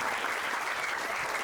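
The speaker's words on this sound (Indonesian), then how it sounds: "sekali lagi tepuk tangan buat Coach Indra" An audience at the Gala Siswa Indonesia 2025 training center meet and greet claps for a coach in a dense, continuous burst of applause that stays loud for the whole moment.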